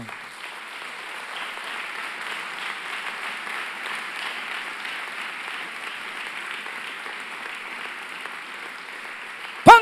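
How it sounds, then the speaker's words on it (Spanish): Steady congregation applause inside a church during a Sunday service, a dense even wash of many hands clapping sustained for nearly ten seconds before a sharp sound at the very end. "¿Por qué no le das un fuerte aplauso?"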